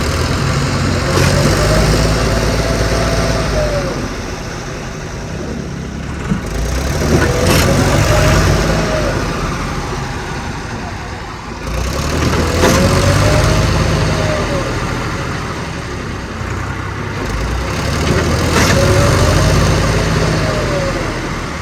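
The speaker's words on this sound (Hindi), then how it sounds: "ट्रैक्टर बिल्कुल टेढ़ा हो गया" A tractor engine labours hard as the machine tips sideways with one wheel lifted, its steady drone swelling into strained surges about every five seconds, close and fairly loud.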